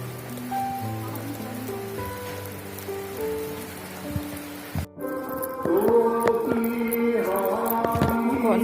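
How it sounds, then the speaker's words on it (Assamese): Rain falls steadily on a pilgrimage path, a constant close patter and hiss throughout, with scattered tonal sounds and a brief dip before it grows slightly louder. "এতিয়া বৰষুণ পৰিছে চাওক"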